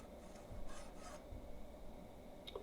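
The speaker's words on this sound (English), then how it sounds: "you could use your file to clean up the edge before you touch the angle grinder to the bevel" A hand file rasps against the edge of a mower blade to knock off a burr, making a few short quiet scraping strokes in a small workshop space, with no voices.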